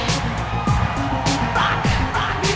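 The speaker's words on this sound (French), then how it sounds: "Un maximum d'applaudissements." Wedding guests cheer and whoop as a crowd at a reception, with scattered yells and bursts of noise running steadily through the short stretch; a few voices rise above the general din.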